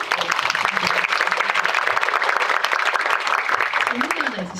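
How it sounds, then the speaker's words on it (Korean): Audience applause at a Korean film screening talk with actress Lee Se-young, a steady broadband clapping wash filling the whole stretch, with a voice briefly audible over it near the end. "오늘 이야기 들려주신 이세영 배우님께 큰 박수 부탁드리고"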